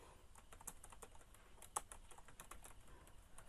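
Quick, fairly faint typing on a computer keyboard, a steady run of light key clicks with a few sharper taps, no voices.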